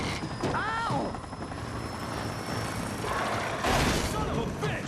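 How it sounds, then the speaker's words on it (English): Helicopter rotor noise with booming crash-like bursts and crackling impacts as the helicopter crashes in the game Alan Wake Remastered, loud and close, while someone talks excitedly over it. "It's so easy to crash a helicopter."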